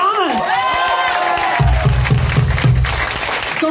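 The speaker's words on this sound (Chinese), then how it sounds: "掌声给他们" Audience at an epidemic-prevention talk show breaking into applause and cheering, clapping rising after a voice fades, loud and sustained through the rest.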